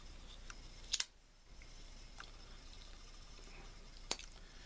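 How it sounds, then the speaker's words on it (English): Two crisp metallic snips of scissors, one near the start and another a few seconds later, quiet and isolated against faint background hiss. "scissors"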